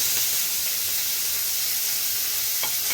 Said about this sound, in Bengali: এক স্পুন আদা বাটা এই সময় না টমেটোটা কুচিয়ে নিয়েছি টমেটোটা দিয়ে দেবো তাহলে ছিটবে না